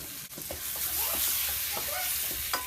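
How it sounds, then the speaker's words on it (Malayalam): Tomatoes sauté in a hot pan for a Kerala-style chicken curry, a constant close sizzle with quick stirring scrapes and brief crackles over it. "ഇനി തക്കാളി അതുപോലെ തന്നെ വഴറ്റിയെടുക്കണം"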